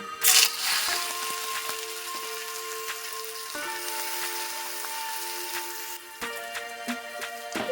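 Grated ginger, garlic and three green chilies sizzle in hot mustard oil, a bright crackling burst at the start that settles into a steady frying hiss close by, with faint clinks throughout.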